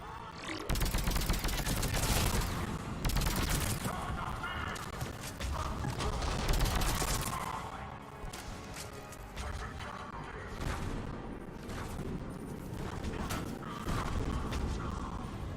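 Sustained automatic turret gunfire in the video game Mass Effect 3, dense rapid bursts mixed with impacts and combat effects, loud and continuous throughout with little pause.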